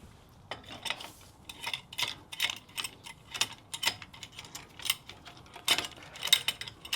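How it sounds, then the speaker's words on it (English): A clamp squeezes the piston back into a Jeep brake caliper, giving a string of close, crisp mechanical clicks and ticks in an uneven rhythm with brief quiet gaps between them. "now I'm going to compress the cylinder in the caliper with the clamp"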